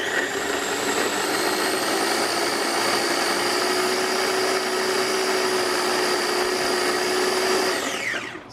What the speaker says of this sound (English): punch that down a bit with the Ninja chopper.